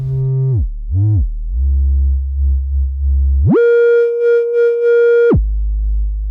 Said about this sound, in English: I'm essentially increasing the amplitude of the resulting sine wave by cross-mixing from low-pass through to bandpass